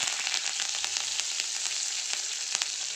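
Curry leaves fry in hot oil with a steady, close broadband sizzle, punctuated by brief sharper crackles and pops throughout, no voices present.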